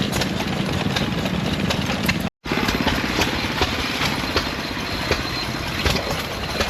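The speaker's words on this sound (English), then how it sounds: "There's still a lot of people running engines here." Antique gas engines run steadily at a threshers show in the gas engine area, a continuous mix of chugging, popping engine noise close by, with a brief drop-out partway through and no talk.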